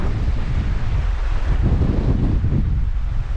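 Strong, freezing wind on a steep hillside buffeting the microphone, a loud continuous roar with gusty low-end rumble and no voices.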